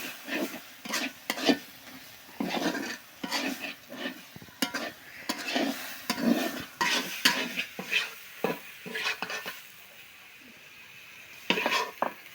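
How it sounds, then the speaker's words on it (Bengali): Onion and garlic frying in oil for a greens mash, heard as repeated close scraping and stirring strokes against the pan over a low sizzle, in irregular bursts with brief pauses, no talking. "আগে এভাবে পেঁয়াজ রসুন ভাজা করে নিয়ে তারপরে তেলের উপরে দিয়ে লবণ কাঁচামরিচ দিয়ে সেদ্ধ করে"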